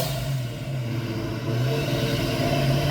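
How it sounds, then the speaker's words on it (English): A supercharged Ford Mustang engine rumbles loud and close at a cars and coffee meet, a steady low growl that swells slightly as it drives past. "Oh, Mustang, of course. Supercharged."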